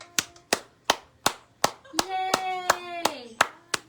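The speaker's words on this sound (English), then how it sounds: "2 hands clapping." Two hands clap about ten times at an even pace, close and crisp, while a voice hums or sings a sustained tune over the middle claps.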